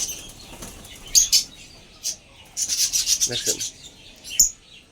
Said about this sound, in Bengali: এর ভিতর আছে অনেক ঘু পাখি